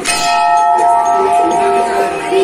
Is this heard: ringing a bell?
yes